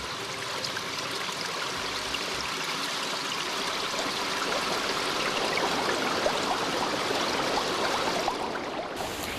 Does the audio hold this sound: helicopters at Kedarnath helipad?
no